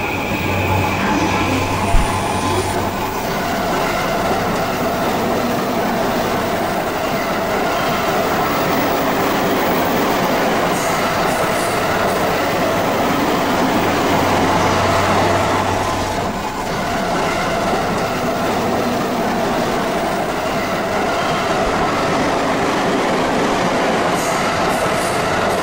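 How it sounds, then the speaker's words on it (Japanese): A Tokaido Main Line train runs past at Hamamatsucho Station, a long, loud, continuous rumble with wheel noise and faint squeals that swells and eases over about 25 seconds, heard from close by. "東海道本線を見るし"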